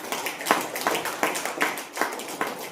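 An audience claps in rhythmic, evenly spaced bursts of hand claps, moderately loud and fairly close, repeating steadily for a few seconds.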